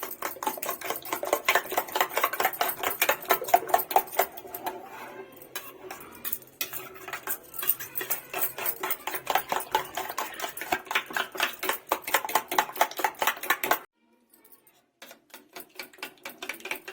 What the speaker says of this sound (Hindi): अब इसको अच्छे से मिला लेंगे सब।